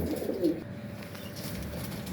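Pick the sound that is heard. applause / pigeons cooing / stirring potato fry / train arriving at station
pigeons cooing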